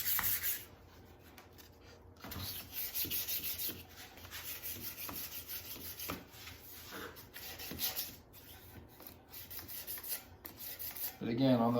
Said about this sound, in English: I'm just going to lightly sand all that.